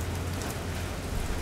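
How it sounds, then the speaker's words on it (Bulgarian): Steady rain falling outdoors during a gathering, a dense even wash of drops with a low rumbling undertone, continuous and fairly close, with no talk. "сега в момента сме и хванати от дъжда, очевидно"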